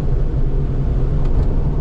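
Fox body Mustang with an AOD automatic transmission cruising steadily, a continuous low engine and road rumble heard from inside the car, even and unbroken with no shifts.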